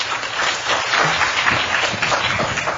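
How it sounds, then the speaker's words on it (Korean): A room of university students and visitors at a chemical and biological engineering department information session breaks into steady applause, dense and even clapping from many hands lasting the whole stretch with no voices over it. "찬욱이한테 박수 한 번만 주세요."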